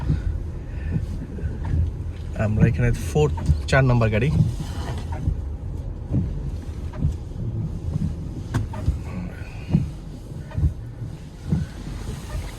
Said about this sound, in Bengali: আমরা আমাদের সেকেন্ড ফেরিতে উঠলাম